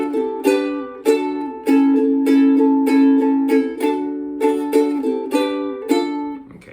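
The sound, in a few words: ukulele strumming pattern for a song's chorus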